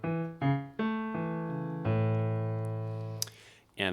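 A singer performs a low-range vocal exercise on "mi-ya": three short staccato notes, then a longer sustained vowel that glides lower and fades. The voice is clear and solo, with no accompaniment.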